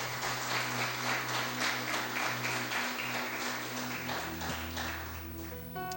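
A church congregation at a Portuguese-language worship service claps together in praise, a rhythmic, even patter of many hands over a sustained musical drone and organ-like tones, fading somewhat toward the end.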